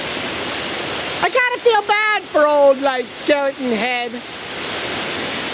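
Running water from a waterfall at a haunted attraction makes a constant, loud rushing hiss throughout, while someone talks over it partway through.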